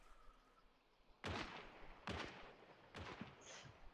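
Three heavy gunshots from the video game Hunt: Showdown boom at roughly one-second intervals, each with a rumbling tail, over quiet background.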